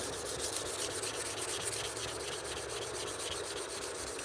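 A blade edge is rubbed back and forth on 320 grit abrasive, producing a soft, steady scraping hiss in quick repeated strokes, close and fairly quiet with no talking.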